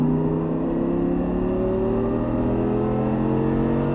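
Audi R8 accelerating out of a corner on a track, a loud, close, continuous engine drone whose pitch climbs smoothly as it pulls.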